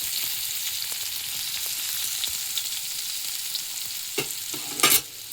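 Chopped onions frying in oil in a pan for a bread burger filling, a steady soft sizzle with a few stirring knocks near the end, no voices.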